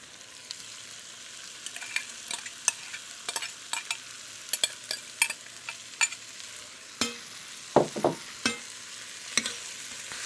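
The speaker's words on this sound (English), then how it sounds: "And we'll just toss that in with the other vegetables, get a little bit of flavor going there." Corn gets stirred into a pan of frying bacon and vegetables, a soft continuous sizzle punctuated by repeated scraping and clacking strokes of the spoon, some sharper clusters near the end.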